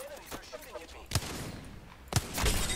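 A few sharp, isolated gunshots from a video game crack out about a second apart, with quieter game sounds and faint voice-like murmur in between.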